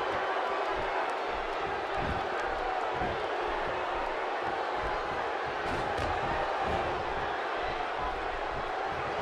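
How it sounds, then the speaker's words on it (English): Dense, steady arena crowd roar from a WWE 2K16 wrestling match in St. Louis, a constant wash of cheering and shouting that fills the whole stretch without letup. "Another great crowd here in St. Louis."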